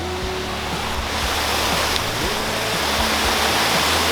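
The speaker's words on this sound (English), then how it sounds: "here's a little tributary that's coming into the creek right here in the parking lot, and it is flowing" A small tributary spills into a creek beside a parking lot, water rushing steadily in a loud, continuous flow nearby, with no voices.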